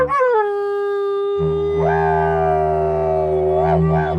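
A didgeridoo drone shaped into howling canine cries, rising and falling wails with a steady low buzz beneath, close and loud for about four seconds.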